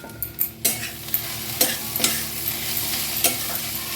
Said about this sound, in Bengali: এভাবে নেড়ে দিলাম